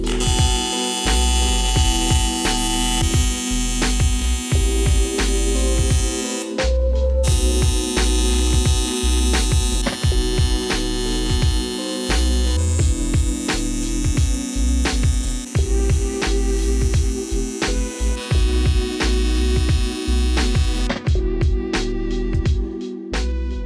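Arc welder laying beads on a fabricated car hood for a junkyard supercar build, a steady loud electric buzz and crackle running almost continuously with a few brief breaks, no talking over it.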